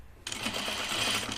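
A sewing machine runs steadily, stitching a tiny French seam in knit fabric, its close, continuous whir starting abruptly after a brief quiet moment and holding without pause.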